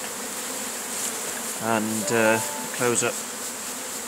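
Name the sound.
swarm of honey bees buzzing at hive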